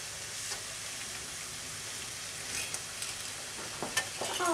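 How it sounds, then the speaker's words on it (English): Chopped onion sizzles and crackles steadily in a hot pan on a home stove, with a few louder spits and stirring scrapes near the end. "Heat the onion until it's cooked."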